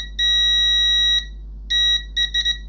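A multimeter's continuity tester beeps loudly in short tones, one long beep of about a second, then a shorter one and a quick stuttering run of brief beeps, probing a faulty Asus TUF FX504GM laptop power supply.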